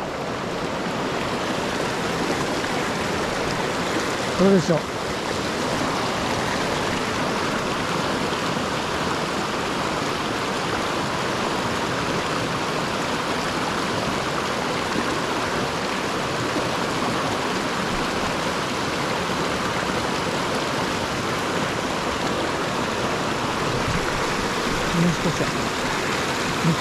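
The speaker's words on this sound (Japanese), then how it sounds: "この川です。" The Piukenai River flows steadily, a loud, broad, unbroken rush of water heard up close for the whole stretch, with a brief spoken remark near the start.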